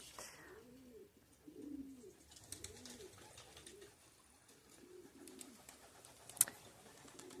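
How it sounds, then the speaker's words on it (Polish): Several soft pigeon coos repeat in a slow rolling rhythm from pigeons on a roof, fairly close but quiet, over faint outdoor background noise with one brief sharp click. "Teraz na dachu są wszystkie właściwie gołębie"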